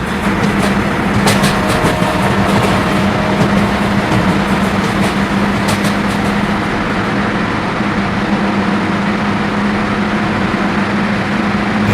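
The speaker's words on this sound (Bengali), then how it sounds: "আপনারা মনে হয় এখন রেল যাওয়ার সাউন্ড পাইছেন আশা করি।" A train rolls past beneath an overpass in Bus Simulator Bangladesh on the Khulna–Dhaka route, a loud continuous rumble layered with a steady engine drone and sharp rhythmic clacks early on.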